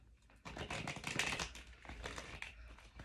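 Tarot cards being shuffled for a Scorpio reading: a quiet, dense riffling and flicking of cards, close and continuous with a brief pause partway through.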